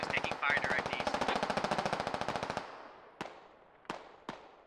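Sustained automatic gunfire in a military video game, a long rapid burst of evenly spaced shots with voices over the start, then three separate single shots echoing after it stops.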